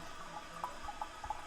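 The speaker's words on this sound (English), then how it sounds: "Hear that water flushing from the toilet?" Water runs from a flushing toilet in an indoor room, a steady rush with small gurgling swells, fairly faint and heard on its own without talk.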